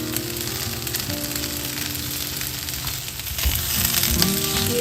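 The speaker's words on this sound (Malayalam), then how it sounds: "കുറച്ച് നേരം നല്ലോണം ഇളക്കുക" Soya chunks with curry leaves fry in a pan, giving a steady close sizzle under repeated stirring and scraping, which grows slightly louder and busier near the end.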